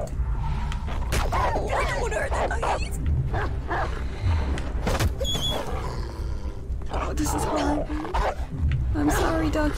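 Dog attacking and growling in the video game Beyond Two Souls, with dense snarls, barks and roars running continuously and loud throughout, while a person talks over the fight.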